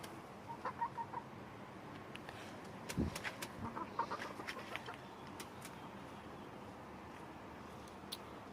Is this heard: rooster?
yes